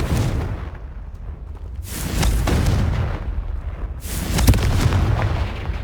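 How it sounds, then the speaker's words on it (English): Confringo fire spell explodes in Hogwarts Legacy, two loud booming blasts, each a swelling rumbling burst with crackling debris, the second stronger and longer, with no talk. "Confringo!"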